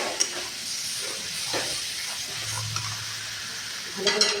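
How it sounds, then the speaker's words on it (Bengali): Hot water poured into a sizzling potato-tomato curry with small fish, a steady broad hiss and bubbling sizzle with faint stirring scrapes throughout, swelling briefly near the end. "এখন গরম জল দিয়ে দিব।"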